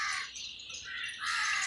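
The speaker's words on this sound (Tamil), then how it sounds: "காக்கா எவ்வளோ ஒற்றுமையாக சாப்பிடுதுங்க" A flock of crows feeding together alongside pigeons, cawing in overlapping harsh calls that are close and loud, rising again near the end, with no talk.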